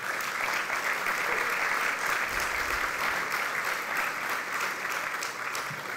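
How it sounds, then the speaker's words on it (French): An audience at a political party gathering applauds a speaker with steady, dense clapping that fills the room evenly from start to finish, no voices rising above it. "que vous pouvez applaudir"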